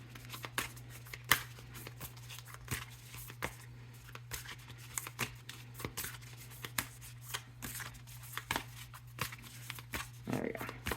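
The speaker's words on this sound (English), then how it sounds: "Nice and shuffled." Tarot cards being shuffled by hand, a steady run of soft papery riffles and taps close up, with a constant low electrical hum underneath and no talking.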